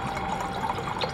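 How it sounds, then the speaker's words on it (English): Gin poured from a bottle into a glass already holding elderflower cordial, a steady close liquid trickle lasting about a second with a brief brighter splash near the end. "I'm gonna pop some gin in there."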